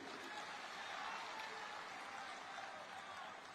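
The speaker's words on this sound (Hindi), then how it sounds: "एक लिए आपन सब एक बार ताली बजावा विजय शर्मा जी के लिए" Audience applause for Vijay Sharma at a government housing-scheme event in Raipur, Chhattisgarh: steady, dense clapping from a crowd, sustained at even loudness throughout with no talk.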